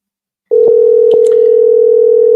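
A steady telephone dial tone sounds on a radio call-in line, starting abruptly and holding loud and unbroken with a few faint clicks layered over it, no one talking.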